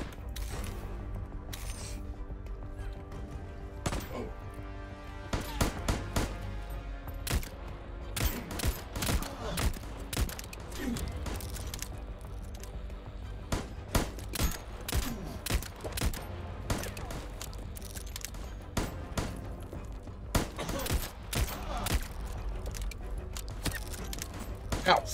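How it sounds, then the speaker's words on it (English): Sustained bursts of gunfire from enemies shooting up a trolley in the video game Void Train, dense overlapping shots and impacts with crashes and creaks, loud and continuous for the whole stretch, with voices talking underneath. "They're shooting up our trolley."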